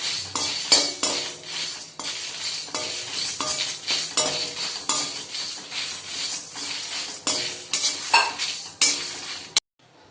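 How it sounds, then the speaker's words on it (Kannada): Dried red chillies are dry roasted in a pan without oil, stirred with a utensil in rapid repeated scrapes and clinks, a busy close rattle that continues evenly throughout. "ನಾನು ಎಣ್ಣೆ ಹಾಕಲ್ಲ, ಡೈರೆಕ್ಟಾಗಿ ಡ್ರೈ ಮಾಡ್ತಾಯಿದ್ದೀನಿ"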